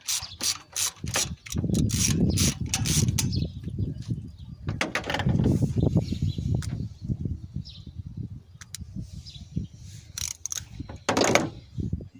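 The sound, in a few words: socket wrench removing a ground bolt on a GMC engine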